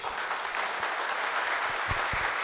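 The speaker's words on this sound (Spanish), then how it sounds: "Fuerte aplauso para profesor." Audience at a Spanish-language tech talk on software quality gives a professor a steady, full round of applause, dense overlapping claps filling the room throughout with no talk.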